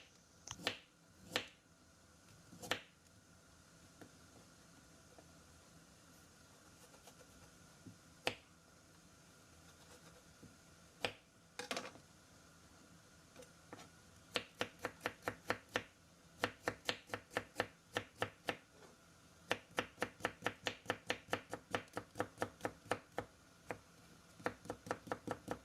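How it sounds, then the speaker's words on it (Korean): Onion and carrot julienned with a knife on a board, giving sharp isolated chops at first, then fast, steady rhythmic cutting strokes, close and clear with no talk. "당근 조금 더 채 썰어 놓아 주세요"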